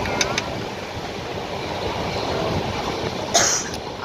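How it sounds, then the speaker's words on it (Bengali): A train pulls away from a village station with a continuous low rumbling roll, fairly close and steady, and a brief higher squeal near the end. "দেখো এই যে আবার ট্রেন ছেড়ে দিয়েছে"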